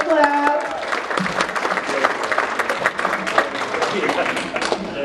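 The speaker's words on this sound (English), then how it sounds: "Give our new students a hand clap." Applause for new students at a youth church service: a room of people claps steadily for several seconds, with a voice speaking briefly over the start and chatter mixed in.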